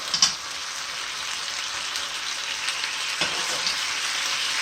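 Beef stock hits peppered beef skewers in a hot pan and sets off a loud, steady hiss and sizzle, with a few faint clicks and stirs under it.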